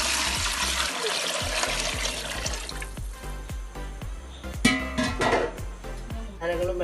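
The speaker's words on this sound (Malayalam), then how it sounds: "ഇനി ഇതിലേക്ക് ചോറിന് വേണ്ടുന്ന വെള്ളം ഒഴിച്ച് കൊടുക്കുകയാണ്" Water poured into a pot of rice for Arabian Bukhari rice, a splashing, trickling stream with rhythmic clattering underneath that thins and breaks up toward the end.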